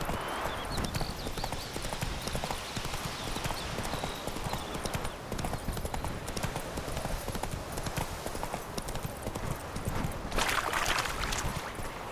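A horse gallops in the video game The Witcher 3, with rapid rhythmic hoofbeats close and steady throughout, plus a faint snort near the end.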